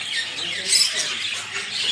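Birds squawking and chirping at an indoor bird zoo in Tallinn: dense, shrill calls overlap in a steady chorus, with a louder burst near the middle, while people talk faintly underneath.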